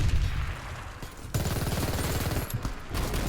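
The SMG-9 ARES Gold submachine gun fires in the video game Warface, with rapid bursts of shots in quick succession separated by brief pauses, loud and close, with no speech.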